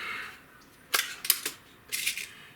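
An Umarex Fuel air rifle fires a single sharp, fairly close crack, accompanied by a few lighter mechanical clicks from the rifle in a quiet setting.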